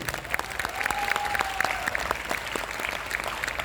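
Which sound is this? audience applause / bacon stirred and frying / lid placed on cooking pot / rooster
audience applause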